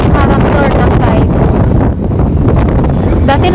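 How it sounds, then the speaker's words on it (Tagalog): Strong seaside wind near Nanliao, Taiwan buffets the microphone in loud, continuous rumbling gusts, with a voice faintly underneath. "Ang lakas ng hangin."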